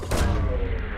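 A probe launches in a sci-fi video game with a brief, loud, dense whoosh and burst that lasts about a second.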